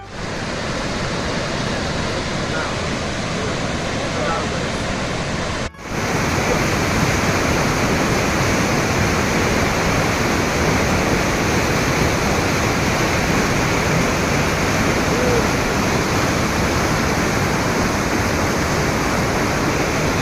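The Octopus waterfall roars in a dense, steady rush of falling water, loud and close, broken only by a brief cut early on before the torrent resumes unchanged.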